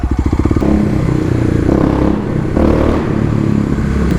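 A Raptor ATV engine passing close by, a loud throaty rumble that starts with a pulsing chug and swells into a continuous roar with rattly clatter, no voices over it.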